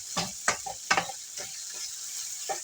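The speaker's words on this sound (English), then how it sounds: "Okay, so I have the meat in the pan." Beef browning in a pan as it is stirred, a few scraping and sizzling bursts close by in the first second, then quieter intermittent stirring over a faint background hiss.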